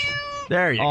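A cat meows once in a clear, close, rising-and-falling call during a radio show segment, following a sustained tonal sound, with a voice speaking briefly over it.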